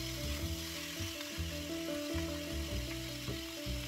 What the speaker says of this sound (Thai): add pork stir fry until the pork half cooked